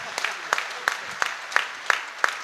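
Scattered rhythmic hand claps from an audience at a Hindi poetry gathering in a school hall, about six sharp beats over a light bed of clapping, fairly close and moderately loud.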